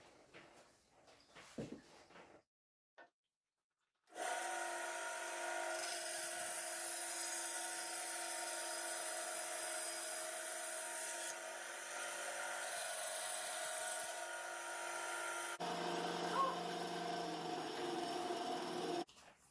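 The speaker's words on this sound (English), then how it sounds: "The quickest and easiest way for me to do it is on the band saw. So that's how I'm going to do it now." A band saw cuts wood for a key holder, a loud steady whirring drone that starts after a few quiet knocks and handling noises, then changes tone near the end.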